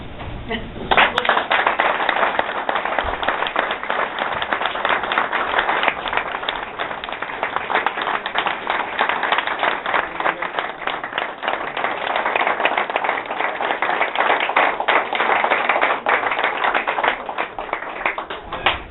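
Sustained applause and clapping at a department appreciation party, many hands clapping in a dense, steady roar that continues loudly for nearly twenty seconds.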